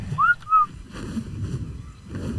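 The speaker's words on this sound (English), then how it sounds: "I'm just going to start whistling and see if I can find my Pteranodon." Two short rising whistles in a row, clear and close, from a player calling a Pteranodon in the video game Ark on the Crystal Isles map, followed by soft wind and game ambience.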